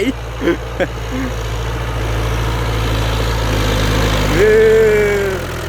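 A Ford 6640 tractor with an air-conditioned cab, pulling a grader blade behind it, idles with a steady low diesel drone close by while people talk briefly early on.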